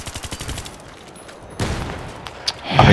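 Gunfire in Battlefield 3 multiplayer team deathmatch on Damavand Peak: a rapid burst of shots at the start, a quieter stretch, then a sudden heavy blast followed by a sharp crack and loud closing fire.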